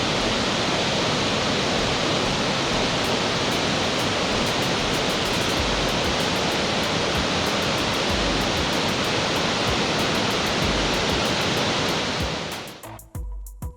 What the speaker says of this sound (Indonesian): air terjun ini menghasilkan suara yang sangat keras dan membentuk awan uap yang besar